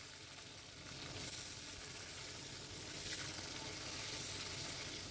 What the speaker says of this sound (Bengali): বেগুনগুলো হালকাভাবে ভেজে নেব।